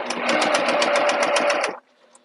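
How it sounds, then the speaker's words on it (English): A sewing machine stitches a vinyl wristlet with a 3/8 inch seam allowance, a loud close rapid whir for under two seconds that stops abruptly, followed by faint clicks. "Now I'm going to maintain the 3/8 of an inch seam allowance all the way around."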